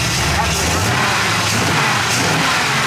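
An AMC 360 V8 engine runs loud and close with a dense, steady roar and slight revving, and people talk over it.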